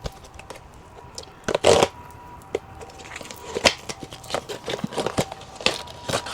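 Japanese surprise box packaging being opened: quiet crinkling and rustling with a few short tearing bursts, scattered unevenly with no one speaking.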